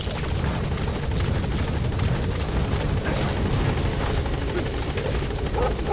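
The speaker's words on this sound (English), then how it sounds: "Support helicopter has arrived." Support helicopter in Metal Gear Solid V: The Phantom Pain arriving, a loud, steady rotor and engine drone filling the whole span with no letup.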